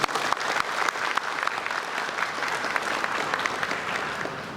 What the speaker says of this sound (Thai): ขอเสียงปรบมือ